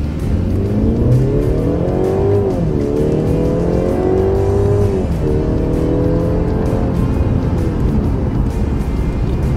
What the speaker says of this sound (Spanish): vamos a hacer un pequeño 0 a 100, modo Sport Plus,